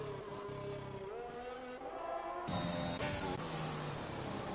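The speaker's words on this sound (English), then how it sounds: "the race goes vroom once again as we resume racing in Bahrain" Race cars in the F1 2021 video game at the Bahrain Grand Prix whine past, engine tones rising and shifting as gears change, with a sudden louder burst of engine noise midway.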